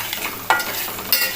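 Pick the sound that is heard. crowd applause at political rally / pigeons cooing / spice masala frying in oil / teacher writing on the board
spice masala frying in oil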